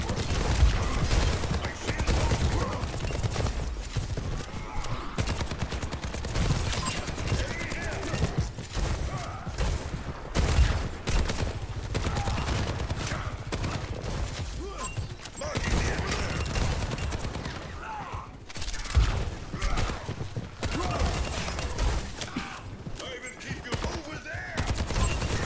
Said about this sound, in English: I'm just shooting the shit out of that hog.